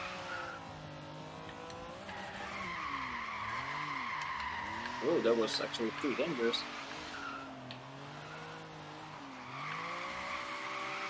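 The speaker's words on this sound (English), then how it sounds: "So I mean, it's drifting a lot" A stock Honda NSX with a Rocket Bunny bodykit drifts in Forza Horizon 3 street racing, its steady engine drone rising into a burst of screeching tire squeal midway, while someone talks over it throughout.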